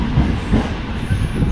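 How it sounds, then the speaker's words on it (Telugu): A train rumbles at Armoor railway station platform, a loud and steady low roar of rolling railcars heard close by with no voices. "సో చూడొచ్చు ఇది ఆర్మూర్ రైల్వే స్టేషన్."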